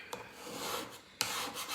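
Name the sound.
scraping paint off a chalk couture DIY sign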